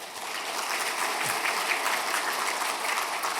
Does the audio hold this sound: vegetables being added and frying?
no